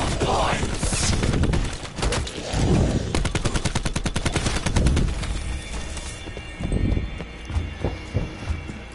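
ICR assault rifle fire in Black Ops 4 zombies on the Tag Der Toten map, rapid loud bursts of automatic shots in close sustained strings, with brief pauses between volleys.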